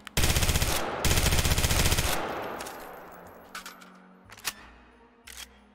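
The D5 Copperhead fires two loud, rapid automatic bursts in the VR shooter H3VR, then only scattered faint clicks and handling knocks follow.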